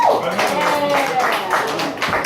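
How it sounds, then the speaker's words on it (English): Audience clapping for a woman comedian at a stand-up show in South Philly, a steady dense patter of applause filling the room with voices mixed in underneath. "Clap it up a little bit more for her"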